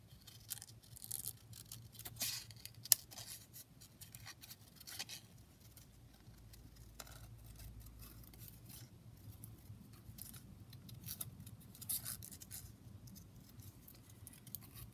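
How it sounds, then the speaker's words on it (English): Scissors cutting out a paper butterfly, faint intermittent snips and soft paper rustles spread across a quiet room, close but low in level. "I'll just cut this butterfly out."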